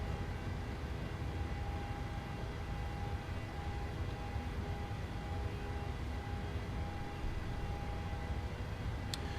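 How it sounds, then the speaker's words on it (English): CFM56 engines on a PMDG 737-800 in Microsoft Flight Simulator give off a constant, even buzz and hum with a thin steady tone, unchanging and alone, with no talk. "Do you hear the buzz of the 737F engines?"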